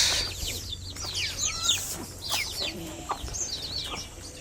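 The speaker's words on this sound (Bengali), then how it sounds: "দেখেন দেশি মুরগি কিনে খেতে হয় না" Chickens clucking nearby, a busy mix of short calls and squawks from several birds over a faint steady background hum.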